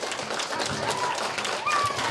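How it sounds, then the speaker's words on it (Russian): Audience applause welcoming the judging panel at a children's vocal contest, a steady wash of clapping from a crowd throughout, moderately loud and without talk. "Давайте сначала громкими аплодисментами их поприветствуем."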